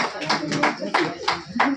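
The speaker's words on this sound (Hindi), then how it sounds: "तालियों से जोरदार स्वागत करिए।" Audience clapping at a Hindi Diwas function honouring teachers at a Vani institute, coming as a brief run of uneven claps over about two seconds with a voice talking through it.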